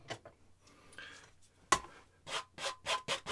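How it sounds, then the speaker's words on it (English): A small palette knife scrapes oil paint across a canvas in a beginner landscape painting, with a few soft strokes and then a quick run of louder close rasping scrapes. "I'm gonna go on with a small palette knife here."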